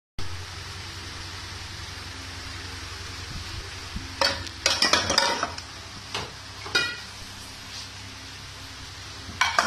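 Cleaned lentils for dal are cooked and stirred in a pot, with a steady low hiss under scattered metallic scrapes and clanks of a spoon against the pot, clustered in bursts midway and near the end, without talk.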